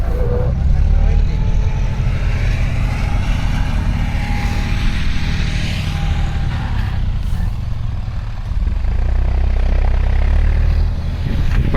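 An Eicher tractor hauling a loaded trolley on a farm, its engine a loud steady low rumble that holds for the whole stretch with a brief dip near the end, no talk over it.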